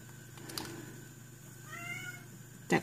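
A domestic cat meows a few times, faint and somewhat distant against a quiet indoor room, with a brief sharper noise at the very end.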